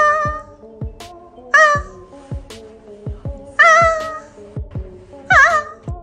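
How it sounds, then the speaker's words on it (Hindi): A cat gives several loud, drawn-out meows with rising and falling, almost human-like inflection, spaced between rhythmic low thumping sounds in the background. "इस बिल्ली को देखे किस तरह इंसानों जैसी आवाजें निकाल रही है।"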